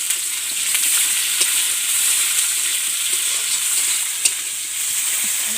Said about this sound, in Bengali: আমি পেঁয়াজ কুচিগুলো দিয়ে দেবো।